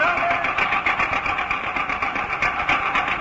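An old car engine is cranked and runs with a rapid, rattling mechanical chatter, fairly loud and close, with a voice briefly audible over it.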